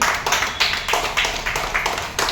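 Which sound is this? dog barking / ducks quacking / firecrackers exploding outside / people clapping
people clapping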